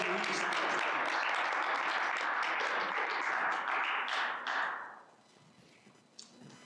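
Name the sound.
audience applause at seminar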